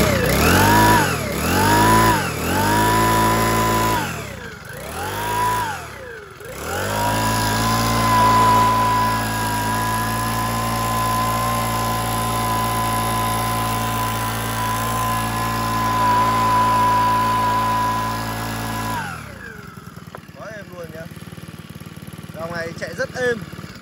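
A Japanese Mitsubishi/Makita leaf blower engine, close and loud, revs up and down several times, then holds a steady high whine for about twelve seconds before cutting off.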